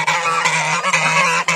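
Geese honk loudly and repeatedly at close range among other poultry, with steady overlapping calls filling the short stretch and no talking.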